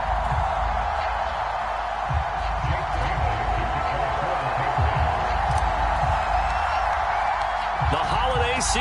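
Stadium crowd roar in an EA Sports NFL video game, Patriots versus Green Bay Packers, a steady loud wash of cheering with a commentator talking over it throughout.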